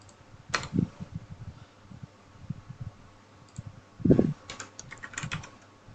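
Computer keyboard typing during a web server configuration session, with scattered key clicks and a heavier burst of keystrokes near the middle, close and fairly quiet with faint background hum.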